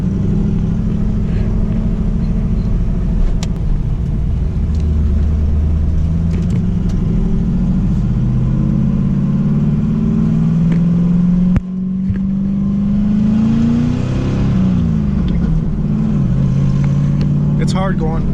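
A Pontiac Trans Am driving on a cold night with its lights off, its engine droning loud and steady, climbing and settling in pitch through the gear changes with a short dip partway through, under occasional talk.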